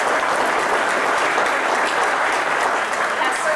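Loud, dense applause from the audience at a spring alumni reunion banquet, continuous close clapping throughout a few seconds with no speech over it.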